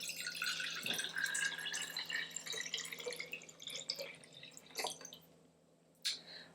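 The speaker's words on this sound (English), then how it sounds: "I use two hands and I pour the water in." Water poured by hand from one jar into another, a continuous splashing trickle with brief drips and a louder splash near the end, close and alone.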